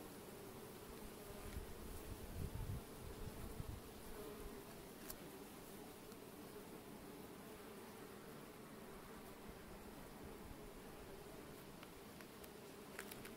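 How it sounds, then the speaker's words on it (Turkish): Hornet buzzing around a beehive outdoors, a steady faint insect drone persisting throughout with a few brief louder bumps near the start. "Eşek arısı elime saldı."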